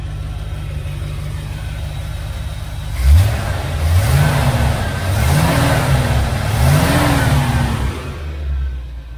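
A 1969 Chevelle Malibu's 350 V8 from a 1975 Corvette, with an Edelbrock intake and carburetor, idles and then revs hard about four times in a row, each rise and fall loud and close.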